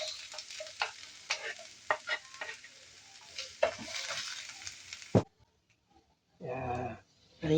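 Garlic and onion sizzle loudly in hot oil under steady stirring and scraping, then the frying cuts off abruptly, leaving a short silence before a brief final burst of noise.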